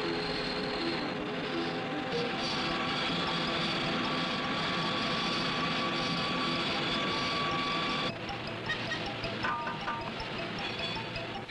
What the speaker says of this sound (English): Under a steady flow of oil, locking lugs are milled in center fire receivers.